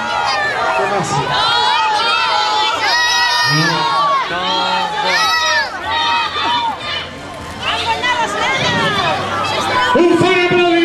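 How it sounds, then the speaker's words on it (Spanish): Children's cheering and shouting fill the air at an outdoor aplec gathering in Piera, loud excited voices overlapping steadily throughout, with crowd hubbub underneath and little distinct clapping. "Un bon aplaudiment pels nens perquè han guanyat"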